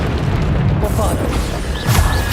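Bombarda spell explosion in Hogwarts Legacy, a loud, rumbling booming blast that fills the clip, with a brief crackling burst near the end.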